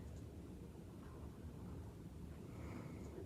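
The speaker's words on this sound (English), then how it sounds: "Sorry if you can hear the wind. It's very, very windy out today." Strong gusty wind buffets outdoors, a constant low rumble and roar against the microphone that never lets up, with no voices.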